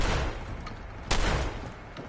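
A burst of gunfire in the video game Fallout 4: a loud fusillade of rapid shots with a sharp crack near the middle and another toward the end, no voices.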